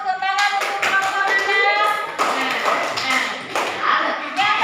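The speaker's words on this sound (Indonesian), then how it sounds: "Bagus, tepuk tangan untuk kelompok" A classroom group gets applause, a burst of quick, bright hand claps from several pupils that fills the room and stays fairly close, with children's voices mixed in.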